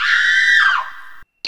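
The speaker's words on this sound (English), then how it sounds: "Why is someone screaming?" A single high-pitched scream from a character in the video game Danganronpa Another Episode, loud and sustained, then falling in pitch and trailing off, followed by a brief silence and a short burst of sound.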